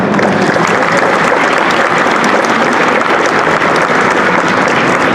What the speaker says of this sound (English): please, big applause for these guys